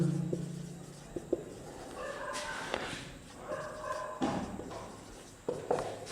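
Dogs barking and yipping in the distance, several short bursts scattered across the clip with some whimpering, faint and heard behind a room's background noise.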